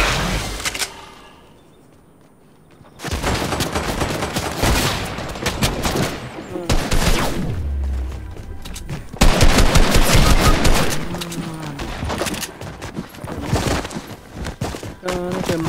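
Rapid bursts of automatic gunfire crackle in a Fortnite match, loud volleys separated by short pauses, with one near-silent gap early on and scattered sharper single shots.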